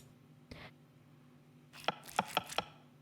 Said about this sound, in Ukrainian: біжимо і ріжемо на слайси